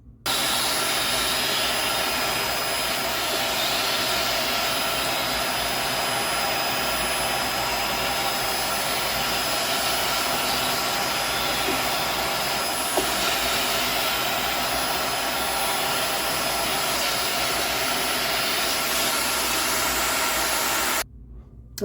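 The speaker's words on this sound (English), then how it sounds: "I'm just going to grab a vacuum" A vacuum cleaner sucking up hair during a service of a JVC QL-F4 turntable, a loud continuous roaring whine running unbroken for about twenty seconds before cutting off.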